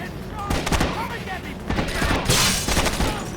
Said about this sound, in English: Weapon sounds are so distinct that they function as pop-up warnings.